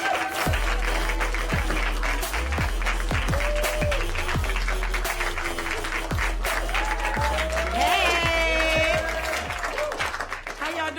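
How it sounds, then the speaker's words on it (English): Audience applauding at an all-female comedy show, sustained clapping and cheering from a lively crowd with a host's voice over it. "Clap it up for our final comedian of the night."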